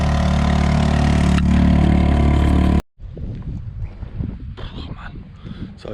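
A small boat outboard engine idles loudly and roughly with a steady throbbing rumble after the choke is closed, then cuts off abruptly, leaving wind noise and faint knocking.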